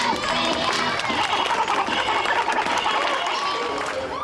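Audience at a hip-hop performance in Louisiana claps and cheers in a steady, dense wash of applause that holds loud throughout, with crowd voices mixed in.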